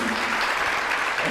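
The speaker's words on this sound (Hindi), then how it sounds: "आप लोग तालियां बजाते रहे" Studio audience applause at a Hindi television show after a song, a steady dense wash of clapping that runs loud and unbroken through the whole stretch.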